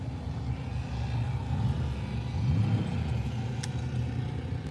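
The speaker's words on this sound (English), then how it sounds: "listen to the great sounds of the race cars" A steady low race car engine rumble drones throughout at a raceway, continuous and fairly close, with no voices over it.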